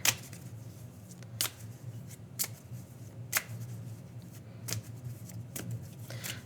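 Alphabet deck of cards being shuffled, with sharp riffling bursts repeating about once a second over a low steady background hum, close and fairly quiet with no talk.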